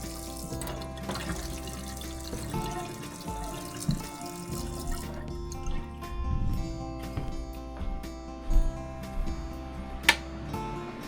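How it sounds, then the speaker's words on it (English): Water drips from a pipe cap in an old farmhouse's plumbing, with running water and a few sharp drops and small splashes standing out close by against a faint hum and clatter. "I see a drip there on that cap"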